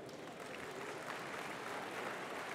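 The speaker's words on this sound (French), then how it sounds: "que je vous demande d'applaudir" Audience applause at a Socialist Party political rally, for French foreign minister Laurent Fabius: a steady, even wash of many hands clapping in a large hall, fairly faint and distant, with no break.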